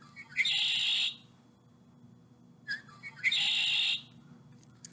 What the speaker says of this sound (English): And listen to the sound they make. It's a really pretty sound, so you'll know it's them. A red-winged blackbird.